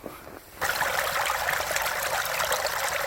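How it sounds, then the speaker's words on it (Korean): A winter stream flows steadily at a national arboretum in January, a bright, continuous trickling rush that starts abruptly after a quiet moment and then holds close and unbroken. "한겨울 겨울 물소리가 너무 좋아서 제가 한번 찍고 있습니다"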